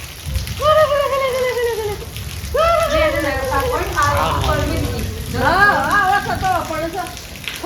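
The season's first rain falls in a steady hiss on the surfaces around a family home, a constant wash of drops beneath lively, overlapping voices.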